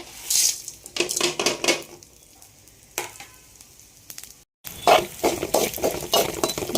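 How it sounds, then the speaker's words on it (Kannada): Spices fry in oil in a pan for mutton sambar, sizzling close by under repeated metallic scrapes and clinks of a utensil, with a brief silent break midway. "ಸ್ಪೈಸಸ್ನ ಚೆನ್ನಾಗಿ ಎಣ್ಣೆಯಲ್ಲಿ ಹುರ್ಕೊಳ್ಳೋಣ"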